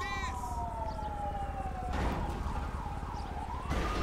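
Emergency sirens wail from ambulances in the police simulation game LSPDFR, a rising-and-falling electronic siren sweeping over steady traffic rumble, loud and close for the whole stretch with no talk.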